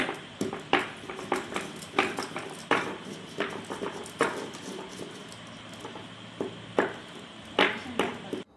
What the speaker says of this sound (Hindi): पहले हल्दी को पीसते हैं, क्योंकि हल्दी फिर पीसती नहीं मसाले के साथ।